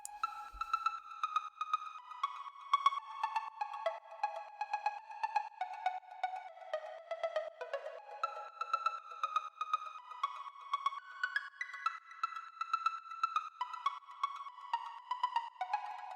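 A full synth melody layered with a bright Serum pluck, a continuous stream of quick plucked notes gently rising and falling over about sixteen seconds, clean and moderately quiet with no voice.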